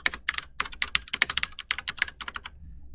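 Rapid typing on a computer keyboard, quick irregular bursts of close clicking keystrokes with short pauses, alone without talk.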